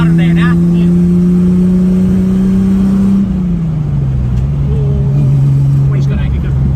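A Nissan Fairlady Z S30 engine accelerates with a steady rising drone, then pitch drops and wavers as it stumbles before pulling again; close and loud.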